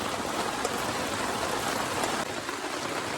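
Rain falls steadily outdoors in the forest, a dense hissing patter of drops on surfaces, close and continuous with a slight dip near the end.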